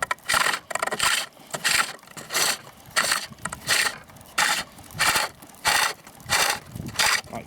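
A pole lathe turns a wooden bowl with a tool running on the bevel, producing loud, close, rhythmic scraping cuts in regular bursts, each stroke followed by a brief pause as the treadle returns, with no talking.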